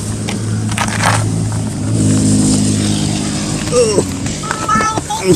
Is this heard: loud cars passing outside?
yes